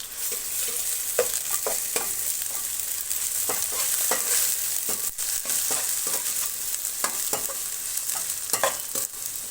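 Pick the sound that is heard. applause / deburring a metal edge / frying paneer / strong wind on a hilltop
frying paneer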